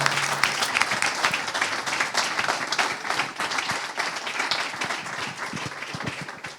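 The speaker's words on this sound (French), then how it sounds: "je crois qu'on peut encore tous les applaudir" Sustained audience applause at an awards ceremony, dense steady clapping from a crowd lasting throughout with no talk over it.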